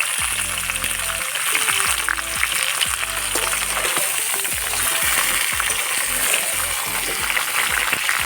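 Steady, loud sizzling of five-spice seeds in hot mustard oil with crackling and spattering throughout, no voices.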